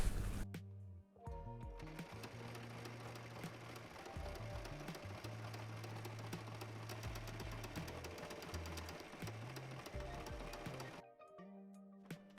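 A sewing machine running a zigzag stitch on elastic for a bikini, whirring steadily for about nine seconds after a brief start, close and loud, with a few short stops and restarts at either end.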